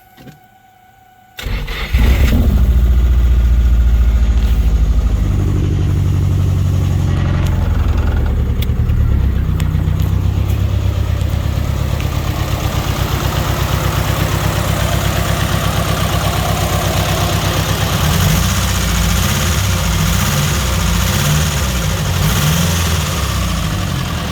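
A Nissan 240SX S14 drift car's SR20DET, fitted with FiveO injectors, untuned and running too rich, cranks and fires, then holds a loud, close, steady idle with a rough pulsing throb for over twenty seconds.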